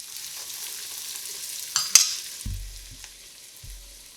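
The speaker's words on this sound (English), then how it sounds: "Use a spatula to very carefully lift the patty out of the plate and into hot oil." Black bean burger patty frying in about a quarter inch of hot oil over medium-high heat: a steady soft sizzle with a couple of sharp clatters midway, then dull low thumps as the patty settles.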